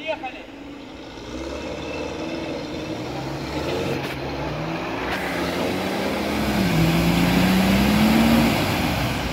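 An off-road SUV pulls away on a muddy track after being hooked up, its engine droning steadily and rising in pitch as it accelerates, with people talking over it.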